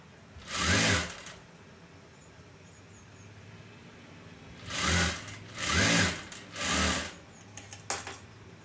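A sewing machine stitches folded fabric on a boat neck blouse in short runs: one near burst of rapid whirring, a pause, then three more bursts in quick succession, with faint clicks after.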